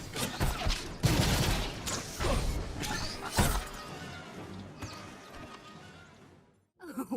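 Rapid blaster and gunfire bursts from a Star Wars: The Old Republic battle, with loud crackling volleys and sharp impacts for several seconds that fade out before a brief final burst.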